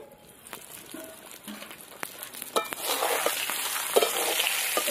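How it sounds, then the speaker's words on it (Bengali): Eggplant frying in a pan with oil, a steady sizzle that grows louder partway through, broken by the clatter of stirring and scraping. "এবার বেগুনটাকে একটু ভালো করে ভেজে নেব।"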